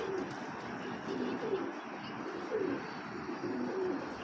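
Racing pigeons at a pigeon club in Bangladesh coo softly and repeatedly, with low rolling calls recurring every second or so over a faint, steady background hum.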